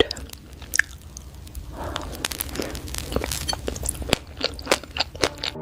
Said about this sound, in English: add eating and chewing sound effects to match the visuals